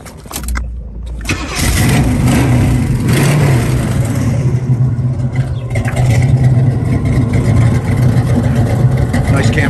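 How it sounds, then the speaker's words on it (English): A cammed muscle car engine fires up with a brief crank, then settles into a loud, lumpy idle with rough, pulsing revs, close and steady. "Nice cammed out engine."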